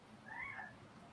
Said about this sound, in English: In case anyone has never met my cat Luna, this is him